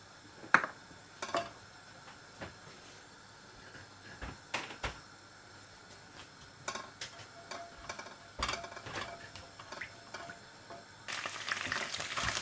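Garlic paste sizzling in hot oil in a pot for white sauce pasta, a quiet crackle with scattered stirring clicks and scrapes, then a louder burst of hissing frying near the end; no voices.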